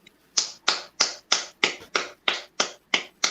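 Slow, steady hand claps from a gospel album track, ten crisp isolated claps evenly spaced in a regular rhythm, close and clear with nothing underneath.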